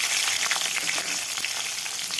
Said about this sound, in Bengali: ফোড়নটা ভালোভাবে আমি ভেজে নেব